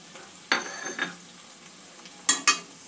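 Papaya curry with turmeric, coriander, cumin and chilli powders being sautéed in a pan, with quiet background sizzle broken by a few short spatula scrapes and clinks near the start and a sharp pair of knocks toward the end.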